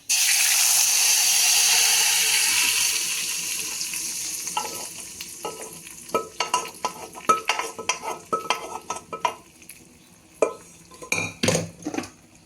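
Cooked lentils tipped into a tempering for mookirattai keerai kadayal: a loud bright sizzle at first that fades, then a run of sharp metal ladle clanks and scrapes against the pan as the mixture is stirred.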